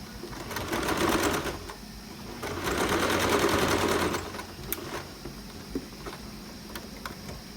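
A sewing machine stitches a sport collar seam at one centimetre around its edge in two runs of rapid, even stitching, each about a second or more long, followed by a few sparse ticks and clicks.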